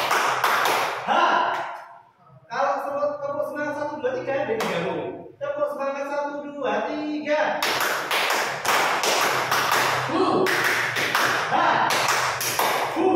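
A voice speaks in Indonesian, then a group breaks into loud, close, rhythmic clapping in patterned bursts that repeat in quick succession, a numbered cheer-clapping routine.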